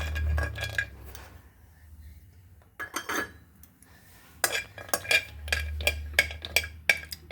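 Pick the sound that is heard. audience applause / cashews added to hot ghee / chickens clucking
cashews added to hot ghee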